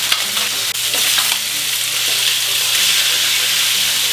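Chicken thighs fry skin-side down in a pan with a loud, steady, close sizzle that holds constant throughout.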